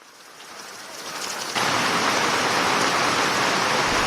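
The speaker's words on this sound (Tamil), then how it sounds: "தொடர்ச்சியாக மழை பெய்து வருவதால்" Heavy rain pours down steadily over farmland around Sirkazhi on the second day of a downpour, a dense, loud roar of falling water that swells sharply partway through and continues unbroken.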